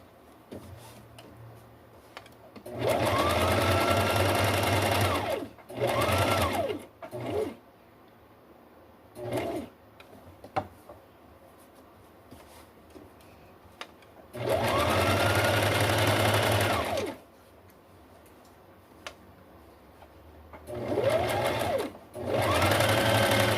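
A sewing machine stitches along the edge of a two-tone collar in several loud bursts of rapid mechanical whirring, each a few seconds long, separated by quiet pauses with soft handling clicks.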